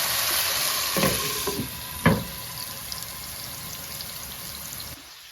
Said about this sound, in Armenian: և այստեղ էլ արդեն հավի կրծքամիսն է տապակվում։